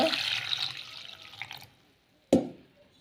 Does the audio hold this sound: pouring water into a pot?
yes